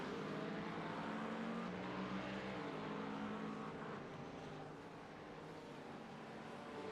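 Race cars including a Ford Mustang and a McLaren running nose to tail in a sim racing game at Barcelona, a steady droning blend of engine roar, fairly loud and continuous.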